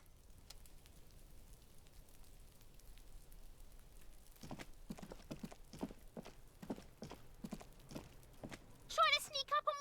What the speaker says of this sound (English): You hear someone inside, walking from room to room.